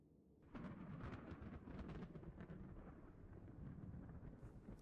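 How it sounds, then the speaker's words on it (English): A thunderstorm breaks with a sudden heavy downpour, dense rain and rumbling thunder rising abruptly and holding steady and loud, with no voices. "Such a downpour, too."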